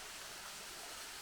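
A forest stream flows steadily, giving a constant, even rushing wash with no breaks, close and fairly loud for the whole moment.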